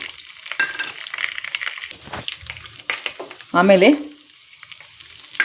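Chana dal and urad dal fry and crackle in hot oil in a pan while being stirred for lemon rice, with a brief spoken word over the sizzle and a short clatter near the end.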